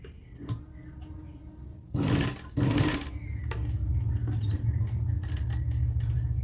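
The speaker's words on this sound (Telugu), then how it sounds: "నెక్ అనేది ఇలా వేయటానికల్లా మిషన్ కంట్రోలింగ్ బాగా రావాలి పాయింట్ దగ్గర నీడిల్ దింపుకో" A sewing machine stitching a neckline runs steadily after a few brief starts, its close mechanical whir holding for several seconds.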